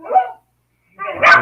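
A dog barks twice, a single short bark followed after a pause by a louder, longer bark with some whining quality, fairly close and with no talking.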